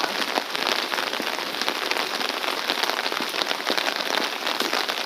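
Steady rain on a Seoul street in spring, a dense hissing wash of drops striking the ground and nearby surfaces, continuous and close, with no voices.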